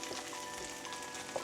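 A thick hamburg steak patty, about 2 to 3 cm, made with carrot, sizzles while pan-frying. It gives a steady, close, continuous hiss with a few small pops and no talking.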